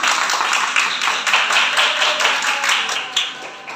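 Audience clapping for the jury at a school class event, a steady run of quick hand claps lasting several seconds, moderately loud and close, with no talking over it.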